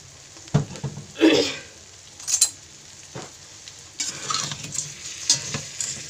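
A spoon stirring and mixing food in a bowl, scraping and clinking in irregular bursts with quiet gaps between strokes and a soft hiss in the background.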